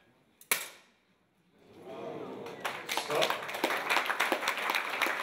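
A single sharp air pistol shot cracks out during a men's 10m P1 air pistol event at a para shooting world championship, followed by a rising wash of crowd applause and clapping.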